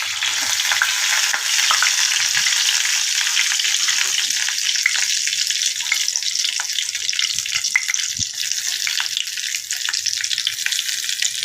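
Two slit chilies and cumin seeds sizzle in hot oil in a home kitchen, ahead of frying fish. The crackle is close, loud and steady, with faint stirring clicks underneath.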